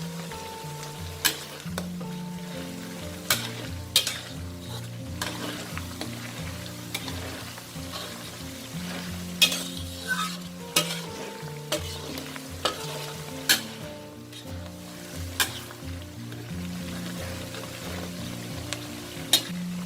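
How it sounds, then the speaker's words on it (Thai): Garlic fries in oil until golden with a constant crackling sizzle, while a utensil stirs and taps the pan in frequent sharp knocks and scrapes. "เราเจียวให้เหลืองเลยค่ะ"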